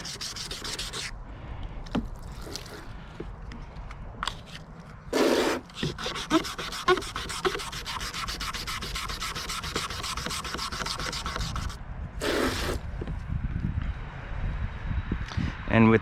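Hand sanding of cloudy, crazed speedometer gauge plastic from a Yamaha Wave Raider with 400 grit sandpaper: a steady, rhythmic rasping rub, close up, broken by two brief pauses, with someone talking over it.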